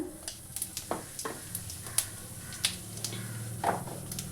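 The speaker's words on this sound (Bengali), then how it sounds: "একটু জিরে ফোড়ন দিয়ে আলুটা ভালো করে ভেজে নিচ্ছি" Potatoes frying in oil tempered with cumin seeds, a steady low sizzle broken by scattered pops and a few sharp crackles, heard close with no voices.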